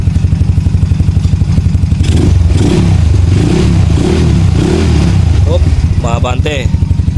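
A Yamaha Mio Soulty scooter engine runs close and loud with a rapid pulsing beat, its revs climbing and falling in several surges before a higher rising whine near the end.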